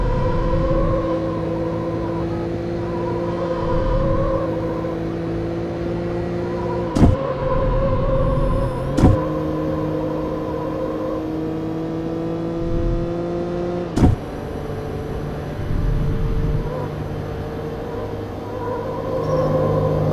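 A Porsche races in the Need for Speed Porsche Unleashed video game, its engine whining steadily with rising and falling revs, cut by a few sharp gear-shift clicks.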